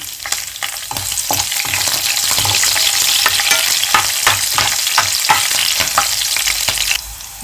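Cumin with dried red and green chilies crackling in hot tempering oil for Andhra-style tomato dal, a loud, dense sizzle with rapid popping that stops abruptly near the end.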